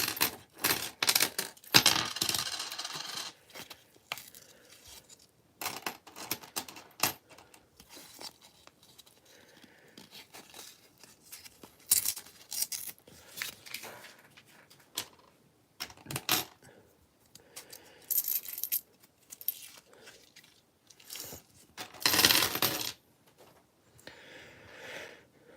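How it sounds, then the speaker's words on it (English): Pennies from a freshly opened coin roll clink and rattle as they are sorted and pushed about by hand, quiet close metallic jingles coming in irregular clusters with short lulls between them. "Rip open another roll here."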